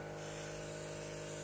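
An airbrush spraying paint gives a steady, close hiss of air that runs without a break, with a faint tonal hum beneath it.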